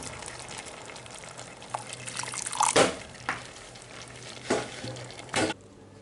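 Stuffed chicken simmers in water in a pot, a steady bubbling sizzle with a faint hum beneath, punctuated by several sharp clinks and stirring knocks.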